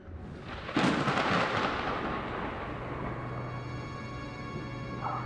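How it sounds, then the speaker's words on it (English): Approaching thunderstorm in the video game The Invincible: a heavy crack of thunder breaks in and then rolls away into a long, deep rumble, with a low steady drone underneath. "Storm fronts approaching your location."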